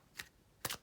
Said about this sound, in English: very easily shuffled if you're a riffle shuffler